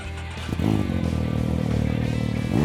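A turbocharged VW Beetle engine idles loudly and close, then revs up with a rising, raspy buzz and audible turbo before settling back to a steady throbbing run.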